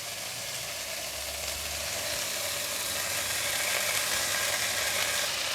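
Leek leaves frying in a pan after carrot and leek stems for a stir fry with eggs, a steady close sizzle running the whole time with no talk.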